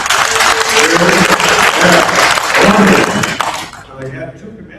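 Convention audience at a department gathering bursts into cheering and applause, a dense wash of clapping and voices that fades out near the end as a speaker's voice returns.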